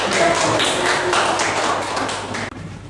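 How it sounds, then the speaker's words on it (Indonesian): Students in a classroom clap for a presenting group, a burst of brisk, close hand-clapping that runs steadily for a couple of seconds and then cuts off abruptly. "Berikan aplaus untuk kelompok terakhir."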